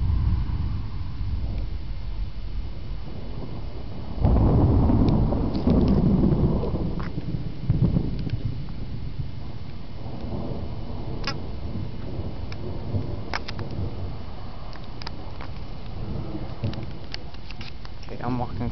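Thunder from a thunderstorm rolls in as a loud, deep rumble that swells for a few seconds, then fades into a softer background of rain patter with scattered crackles.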